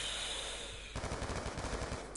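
Rapid automatic gunfire in Call of Duty Black Ops 2, a steady burst of quick shots starting partway through, loud and close with no talk.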